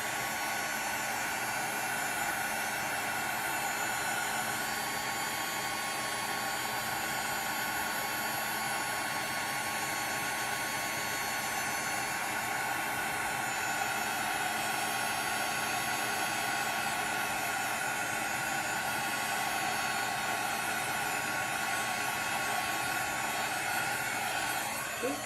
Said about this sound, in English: I'm just going to use this heat embossing gun.